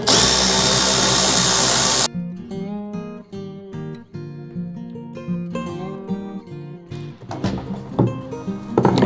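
A power driver spins out T30 Torx screws from a Jeep Gladiator tailgate access panel, a two-second high whine first, then clicks, rattles and light metallic handling of screws and panel nearby.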